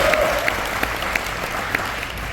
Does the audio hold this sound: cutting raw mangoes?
no